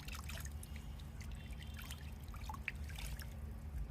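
Water poured in a thin trickle to rinse liquid fertilizer off the sides of a container, a steady dribbling splash over low background hum.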